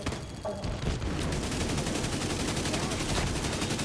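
Gunfire in a video game, a dense rapid burst of automatic shots that runs continuously and loudly, close up, after a brief quieter start.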